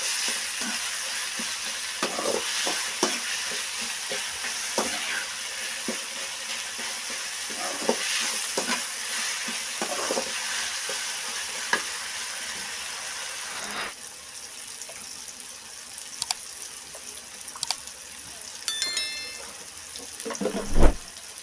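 A drumstick masala curry cooks in a pan, giving a continuous close sizzle with intermittent stirring scrapes and a few sharper clinks, a brief loud knock near the end, and no talking.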